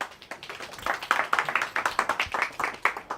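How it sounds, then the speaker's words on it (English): Audience applause at a business masterclass, close and fairly dense clapping from a modest crowd that holds steady throughout the short stretch. "give him a round of applause one more time"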